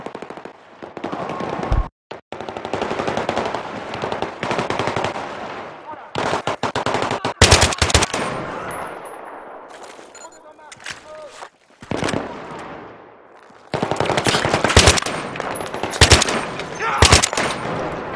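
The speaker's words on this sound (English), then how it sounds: "I want you guys to light him up with flanking fire" Heavy automatic gunfire in a Battlefield 3 firefight lays down flanking fire in loud, dense bursts of rapid shots separated by brief pauses, with short gaps and quieter stretches between volleys.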